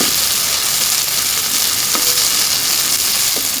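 Spicy mutton brain masala fries in a pan with a dense, close sizzle and crackle, punctuated by a few soft scraping stirs, steady and fairly loud with no speech.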